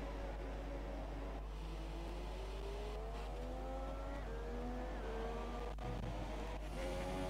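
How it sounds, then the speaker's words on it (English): Race car engines from the F1 2017 video game rev and shift through the gears, several rising whines climbing and dropping in steady sweeps under a constant low hum, fairly faint and with no talking. "I'll go on board with a different car because yours sounds like it's revving out."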